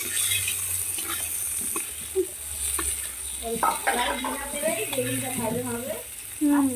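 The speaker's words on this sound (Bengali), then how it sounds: "তেল দিয়ে দিচ্ছে বেগুন ভাজবে বলে" Eggplant slices sizzle steadily in hot oil, a constant frying hiss beneath a person talking.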